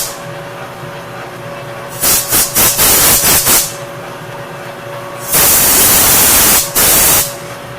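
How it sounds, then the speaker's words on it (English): Cutting oil sprays from a can into a workpiece in two loud hissing bursts: the first sputters in short pulses, the second is a longer, steadier blast with a brief break. "I'm going to put a little bit of cutting oil in there."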